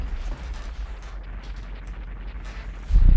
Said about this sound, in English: Behold the world's longest explosion